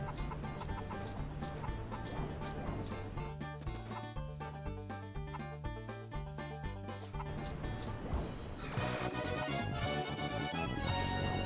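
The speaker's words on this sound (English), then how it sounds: "Stupid chicken, you're making me look bad in front of the Eden Coven." Chicken clucks sound in the PS1 game Mort the Chicken over bouncy, rhythmic game music, with the tune shifting to a brighter, denser passage near the end.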